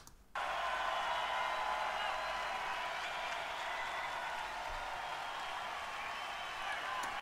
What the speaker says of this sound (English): This is the extra applause I've added.